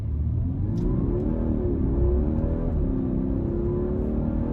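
A 2021 Audi A5 Coupe engine in dynamic mode hums and rises in a steady, sustained acceleration, a deep rumble with climbing tone, heard from inside the cabin with no talking.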